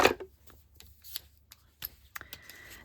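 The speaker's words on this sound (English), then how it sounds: "I am snipping the corners. Just with scissors." Scissors snip the corners off paper for a handmade accordion journal, a few quick, close, dry cuts scattered across a quiet tabletop.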